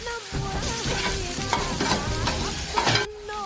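Paneer fries with sweet corn and ginger garlic paste in a pan, a loud, continuous sizzle broken by repeated scraping stirs and clinks of a spatula, close by and without talk.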